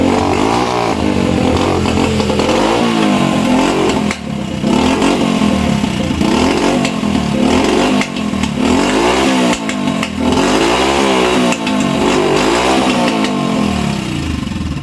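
A low-displacement motorcycle engine starts and revs loudly up close, with a rough, buzzing tone and repeated throttle blips rising and falling in a steady rhythm.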